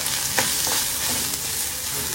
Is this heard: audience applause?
no